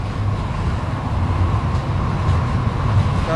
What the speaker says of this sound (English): So that you're hearing is the train.